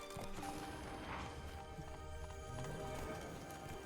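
Roach, the horse in The Witcher 3 video game, gallops with a steady, continuous clip-clop of hooves, loud and near, over a dense game soundscape with a brief whinny-like note.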